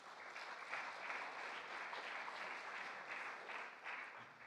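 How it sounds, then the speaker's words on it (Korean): A congregation at a church worship service claps together, a faint but steady wash of applause with gentle swells throughout and no talking. "박수 한번 주시죠."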